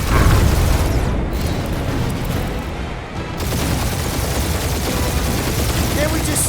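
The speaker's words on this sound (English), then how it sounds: "We're taking fire!" Dense, loud battle noise from Marvel's Guardians of the Galaxy on PC: continuous gunfire and blasts in a space firefight aboard a garbage scow, with muffled voices mixed into the din throughout.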